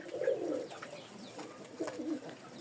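Pigeons or doves coo outdoors in two soft, low, throaty bursts separated by a brief pause, with faint ambient noise in between.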